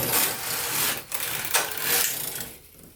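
A Knitmaster MOD 700 knitting machine with SRP-50 ribber runs a knitting pass, its carriage giving a loud, continuous rasping slide that swells and dips for about three seconds, briefly breaking near the middle and trailing off at the end.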